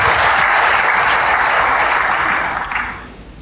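Church congregation gives loud, dense applause during a sermon, a steady roar of clapping that fades out over the final second.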